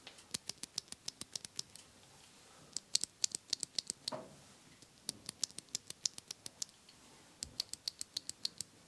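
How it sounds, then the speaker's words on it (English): Scratchy Kale Box Royal mechanical keyboard switches, unlubed and looped, pressed repeatedly: quiet, close clicks and scratchy strokes in quick rhythmic bursts with short pauses between runs, no talk. "let you hear the difference in scratchiness on these Kale Box Royals, looped and unlooped"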